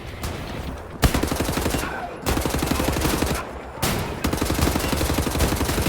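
Rapid automatic gunfire in Wolfenstein: The New Order, loud dense bursts of machine-gun shots with brief pauses between volleys, close and dominant.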